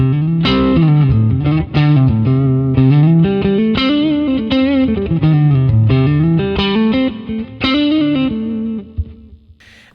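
Distorted electric guitar on a humbucker pickup through a ToneX amp model voiced like a Twin, played as loud, sustained chords and melodic lines with reverb and chorus-like shimmer, continuous and up close.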